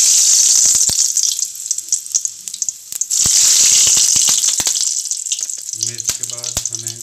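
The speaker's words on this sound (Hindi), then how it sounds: "सो मिर्च को हम ऑयल में डालते हैं।" Green chilies hit hot oil in a pan where eggs were just fried, setting off a loud, steady sizzle and crackle that swells and eases in bursts; a voice briefly speaks near the end.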